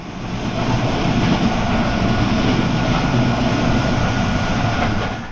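A powerful locomotive pulls Morocco's ONCF overnight sleeper train from Tangier toward Marrakech, its heavy, continuous engine roar and rolling rumble steady and close throughout, with no voices.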